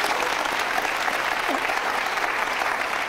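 Loud, steady studio audience applause on an Iranian TV comedy talk show, a thick wash of clapping from many people that holds evenly throughout without speech.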